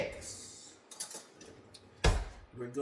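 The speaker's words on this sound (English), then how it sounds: "let me get a spoon" A metal spoon picked up and handled while preparing a salmon bake, a few light clinks and taps against dishes, close and fairly faint, with a sharper clatter near the end.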